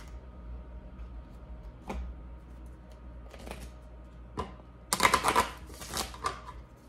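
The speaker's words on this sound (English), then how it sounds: "let's pull some Oracle cards." Romance Angel Oracle cards are shuffled by hand, a few soft riffles early on, then a dense, loud burst of rapid flicking and slapping toward the end, close and indoors with no talk.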